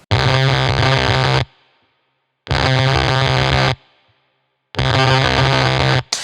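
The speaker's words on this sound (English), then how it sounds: "The next preset has the Fuzz factory in it." Electric guitar through a Fuzz Factory fuzz pedal, three loud, heavily distorted chord bursts, each cut off abruptly into near silence, close and raw.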